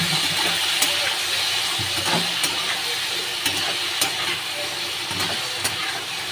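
Cumin-ginger paste with turmeric, salt and a splash of water sizzles steadily in a pan, broken by occasional sharp clicks of stirring.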